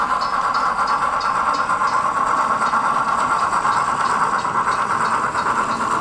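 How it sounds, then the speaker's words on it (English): A model train speeds through a model railroad yard, giving a constant hissing, rushing rail noise that stays even and unbroken from start to finish. "that train is really moving fast through the Inner Bay Yard"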